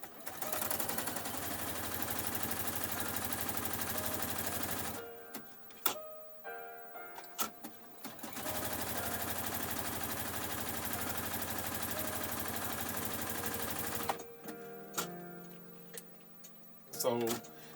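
A sewing machine stitches a seam in two long steady bursts, with pauses filled by clicks and handling noises in between.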